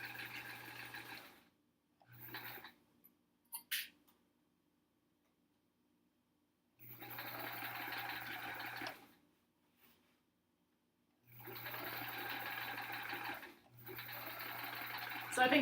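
A sewing machine stitches a quilt border in three steady whirring runs of a few seconds each, separated by quiet pauses with brief clicks, close to the microphone.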